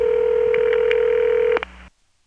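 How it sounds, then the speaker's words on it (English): A Carolina Telephone pseudo-ESS ringback tone from a route and rate operator on a step-by-step exchange, a steady buzzing ring lasting about a second and a half, then a click and a short faint hum before silence. "you can hear the ringtone from the route and rate operator, which is that typical Carolina Telephone pseudo-ESS ring from a building that really has step in it"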